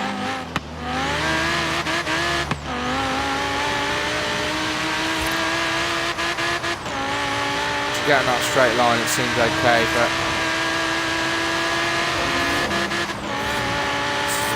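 Fast car in Forza Horizon 3 roaring steadily at high revs, with gear changes and a burst of tyre squeal midway, heard under someone talking throughout.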